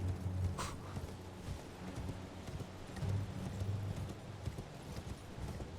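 A horse's hooves clip-clop steadily at a walking pace in Elden Ring, close and even over a low background rumble, with occasional faint game sounds.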